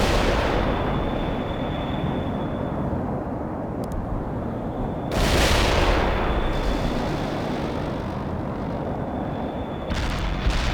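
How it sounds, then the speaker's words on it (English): Artillery fire and explosions in the video game World in Conflict form a dense, rumbling barrage that swells sharply twice, with no voices over it. "Get some shells on them before they dig in, Parker!"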